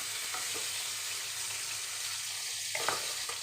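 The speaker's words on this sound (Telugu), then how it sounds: "ఎండు చేప ముక్కలు వేపుకుందామండి" Pieces of dried pandugappa fish fry in a pan, giving a steady close hiss and sizzle with a few faint stirring knocks and no talking.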